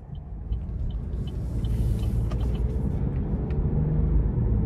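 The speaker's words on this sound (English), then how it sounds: "let's go ahead and take this 2024 Buick Envista Avenir out on the road for a test drive." A 2024 Buick Envista Avenir cruises on the road, giving a steady low road and engine rumble with tire noise that holds at an even level throughout, with no talking.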